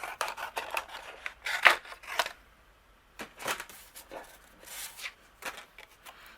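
Scissors trimming a piece of white cardstock, a series of crisp, close snipping cuts in uneven bursts with short pauses between.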